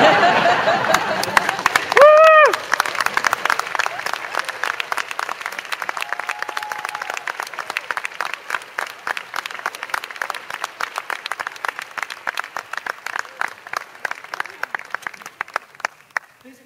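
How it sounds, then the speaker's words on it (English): Graduates and guests at a UC Berkeley physics commencement give a sustained round of applause, dense clapping that starts loud and slowly thins out, with a brief voice and light chuckling near the beginning. "give them a round of applause for all their cheers, support, and most importantly,"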